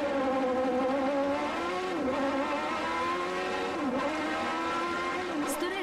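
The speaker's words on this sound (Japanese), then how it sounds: "ストレートの最高時速330キロ、走るというより轟音とともに飛び去っていく。" A Formula One car engine howls loud and close, its pitch rising and dipping as it roars by at high speed on a straight.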